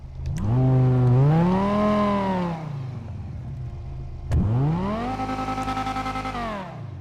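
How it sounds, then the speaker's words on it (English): A Bravado Banshee 900R sports car in GTA V revs hard after a maxed-out engine upgrade: two loud, close rising-and-falling engine revs, the second ending in rapid burbling pulses. "Max out the engine."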